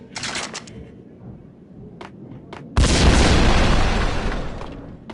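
A grenade blows up in Max Payne as one loud booming blast after a few short clicks and taps, followed by a long rumbling roar that slowly fades away.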